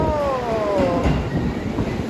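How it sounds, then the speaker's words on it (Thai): A train pulls into a station in Japan, its brakes giving a falling metallic squeal over rumbling wheels, close by, with a little talk in the background. "มาแล้วค่ะมาแล้วค่ะรถไฟ"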